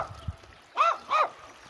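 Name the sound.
dog barking angrily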